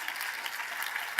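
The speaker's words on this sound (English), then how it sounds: "a round of applause for all of the panelists" Steady applause from an audience after a panel discussion, a dense even clatter of many hands clapping without a break, fairly loud and continuous.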